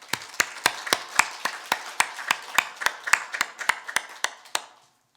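A church congregation at an Easter Sunday service claps in steady unison, about eighteen sharp, evenly spaced claps in a close room before stopping.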